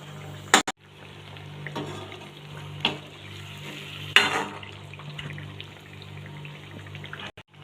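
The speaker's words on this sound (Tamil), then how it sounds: "இதே மாதிரி நம்ம எல்லா அதிரசமும் எண்ணெயில் போட்டு எடுத்துக்கலாம்." Athirasam sweets deep-frying in hot oil, a soft continuous bubbling sizzle with a few sharp clicks and knocks of a utensil against the pan, fairly quiet and without talk.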